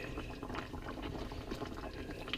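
Chicken and potato simmer in a coconut milk gravy, giving a continuous soft bubbling and gentle liquid burble close by, steady throughout with no talking.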